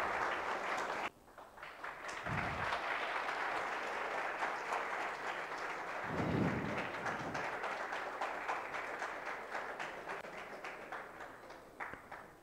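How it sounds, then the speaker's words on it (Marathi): At a project competition prize distribution, an audience claps loudly for a winner, a brief dip early, then a long steady roar of many hands that slowly thins toward the end. "प्रतीकसाठी जोरदार टाळ्या झाल्या पाहिजेत."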